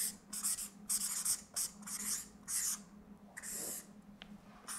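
A pen writes the word Tiramisu by hand, producing a series of short, close scratchy strokes in an uneven rhythm with small pauses, quiet and with no voices.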